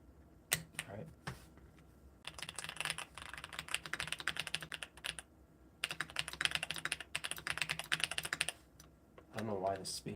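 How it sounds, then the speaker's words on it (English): Keys clack on a KBDcraft Lilith LEGO mechanical keyboard kit in two long, rapid bursts of close, crisp typing, with a few isolated presses and brief pauses between them. "the spacebar and the backspace both sound worse now"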